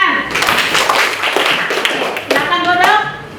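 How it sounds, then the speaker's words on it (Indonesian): Schoolchildren in a classroom clap for classmates after a group presentation, a dense burst of hand claps running for a few seconds amid some voices, with a few distinct taps near the end. "Beri tepuk tangan"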